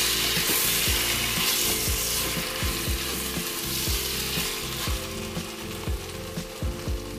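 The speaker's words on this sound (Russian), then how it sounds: "Вот закончился режим жарки, прошел сигнал, мясо я перемешаю." Meat for solyanka soup sizzles steadily in a Redmond RMK-CB391S multicooker as a spatula scrapes the bowl in quick repeated strokes, close and fairly loud.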